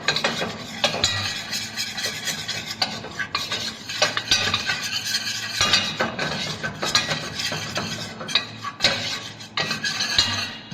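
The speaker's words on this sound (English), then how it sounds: "we're going to make what's called a roux, spelled R-O-U-X, which is a little bit of flour and butter. And what we're going to do is just mix that into what's called a slurry." A spoon stirs a flour-and-butter roux into a slurry in a pan, scraping and clinking steadily against the metal over a soft sizzle, close and continuous.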